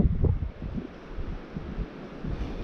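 Gusty wind sweeps over an icy river in the Komi Republic during winter grayling fishing, pounding the microphone in low uneven rumbles that rise and fall steadily, with no voices.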